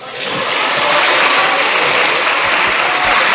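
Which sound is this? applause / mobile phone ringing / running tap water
applause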